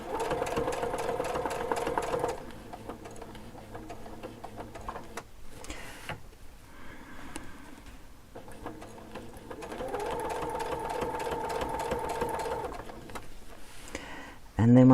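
A sewing machine stitches quilt lines in steady, fast mechanical runs with pauses between them, close and clear, with a short louder burst at the very end.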